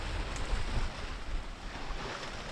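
Steady wash of ocean waves and wind against a sailboat standing off a reef-lined coast, a continuous close rushing hiss with low rumble and no voices.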